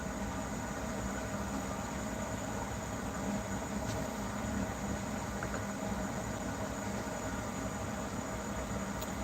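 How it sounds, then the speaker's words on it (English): A train pulls into a station, a steady low rumble and mechanical drone lasting throughout at moderate distance. "Train's coming in."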